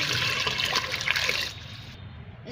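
Water is poured into liquid plant fertilizer to dilute it, giving a steady splashing pour for about one and a half seconds that then fades to a quieter trickle.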